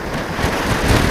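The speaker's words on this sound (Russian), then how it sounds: "Дует. И дует сильно, да?" Strong wind buffets the microphone on an empty beach at a kitesurfing spot, a loud rumbling roar that surges unevenly throughout with no voices.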